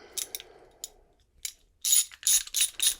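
A ratchet wrench with a 13 mm socket tightening a fitting on a keg cap used for nitro coffee, a few short ratcheting bursts and then longer rapid clicking runs, close and crisp with no talking.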